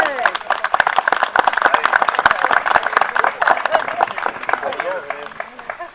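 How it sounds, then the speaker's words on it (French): People at an inauguration clap loudly and unevenly, with sharp close-up hand claps standing out over a general round of applause and some murmuring voices. "on n'a pas applaudi d'abord, alors on va applaudir"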